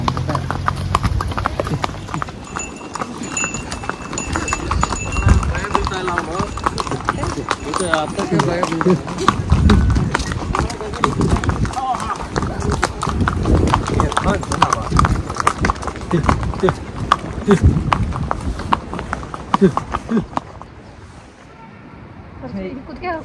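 Horse hooves clip-clop steadily on a pony ride in Pahalgam, Kashmir. The rhythmic clopping comes from close by and continues under constant chatter and calls from riders, then fades out near the end.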